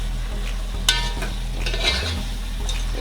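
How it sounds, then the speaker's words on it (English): Chicken pieces fry in a pot for Jamaican stew chicken, sizzling steadily. A spoon scrapes through the meat with a couple of sharp stirring clatters. The sound is close, over a low background hum, with no voices. "make sure you stir your meat properly, you know, so it's evenly coated"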